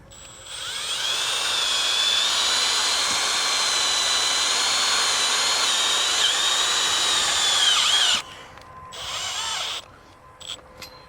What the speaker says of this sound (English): So then we're going to drill it in to hold it.